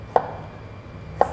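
A knife carving a carrot into a decorative flower, two crisp, sharp cuts about a second apart, close and distinct against a quiet background.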